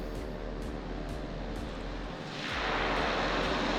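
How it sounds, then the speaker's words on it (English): A jet airliner at Austin airport rumbles steadily in the distance as it taxis, its broad engine roar swelling louder and brighter partway through, with no voices. "there's another plane taxiing out over there"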